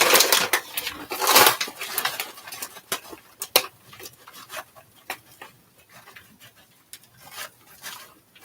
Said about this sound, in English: You're going to put some French's fried onions on top.